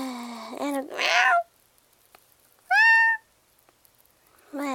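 Two or three clear, close meows sound in separate short bursts with near silence between them, the first drawn out and falling, the next brighter and higher.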